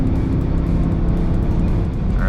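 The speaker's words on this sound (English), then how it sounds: "It does have a pretty decent exhaust note." A 2021 Dodge Durango R/T's low, rumbling exhaust drone in sport mode, with a steady throaty pulse, loud and continuous as it cruises on the highway, wind and road noise blended in.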